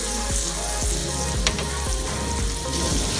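A fish fillet fries in butter in a pan, a continuous bright sizzle with scattered crackles and a few soft clinks of a utensil against the pan.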